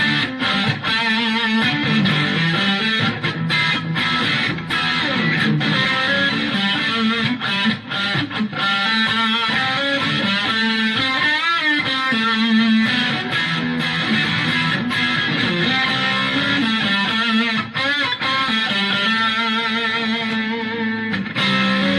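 Electric guitar played through a Boss DS-1 distortion pedal with the distortion turned all the way up, a thick, buzzing, sustained wall of saturated tone that rings continuously with only brief gaps between chords.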